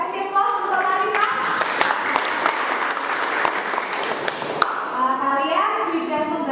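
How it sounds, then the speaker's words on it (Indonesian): A classroom of students applauds a classmate, dense clapping from many hands that swells for several seconds and then fades as a teacher's voice and children's chatter return near the end. "Kasih aplaus untuk Marifah"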